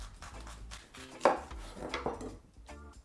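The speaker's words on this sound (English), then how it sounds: "So what you want to do is to cut maybe like 2 centimeters of a steak." A knife slicing through a cauliflower to cut a thick steak, a few soft crunching cuts and board knocks, close and fairly quiet.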